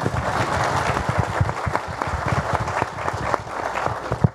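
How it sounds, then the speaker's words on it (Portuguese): A room full of people applauding, dense and steady clapping throughout, fairly close and loud. "Tá certo, aplausos ao Marcelo."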